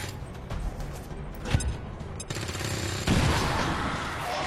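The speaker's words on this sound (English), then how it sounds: "Let's use the grenade. Okay, grenade it is then." Grenade attack in a video game: loud blasts and rattling gunfire-like bursts, with sharp hits around the middle and a heavier burst near the end, all over a dense, continuous game din.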